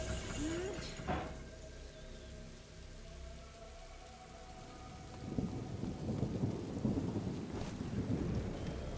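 Steady rain patters under a faint storm while thunder cracks and rumbles, with a sharp clap early and another later, in the game Se necesita flautista; low and distant overall, with no talking.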